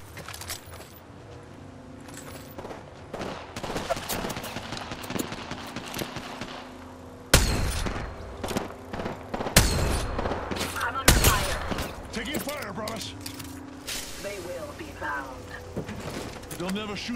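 Gunfire in the video game Apex Legends, with bursts of shots and sharp impacts that grow louder after the first few seconds, mixed with game effects and people talking.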